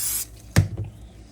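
A single short spray burst aimed around a deep dish pizza dough pan, a quick hiss opening the clip, then a soft thump and a little rubbing as the pan is handled, close and fairly quiet.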